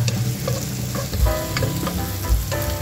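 Onion frying in hot oil for pork sinigang, a loud, close, continuous sizzle with repeated stirring scrapes and low knocks against the pot, no voices.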